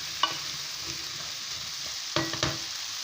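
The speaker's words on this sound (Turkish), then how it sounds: "Kısık ateşte azıcık kavrulsunlar." Brussels sprouts sauté in a covered pot on low heat, giving a steady soft sizzle throughout with a few sharp clicks and scrapes of stirring; no one speaks.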